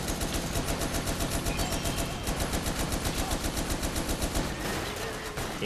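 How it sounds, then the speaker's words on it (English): In Toy Soldiers: War Chest, enemy soldiers fire rapid, continuous automatic gunfire in a steady rhythmic stream. The bursts are loud and close, with engine-like rumble beneath them, and the firing eases off near the end. "they're shooting at us now"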